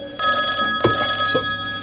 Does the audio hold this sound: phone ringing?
yes